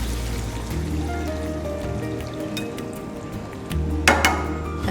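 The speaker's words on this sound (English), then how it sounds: "So that the daliya gets cooked, we will put some water" Water poured into a cooking pan while daliya upma is prepared with beans and carrot, a steady running trickle near the microphone ending in a brief clatter of the pan.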